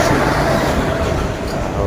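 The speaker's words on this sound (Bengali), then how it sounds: "এই যে ট্রেন ঢুকে গেল।" A train rumbles into the station, a loud continuous roar of wheels and carriages close by, with some crowd noise mixed in.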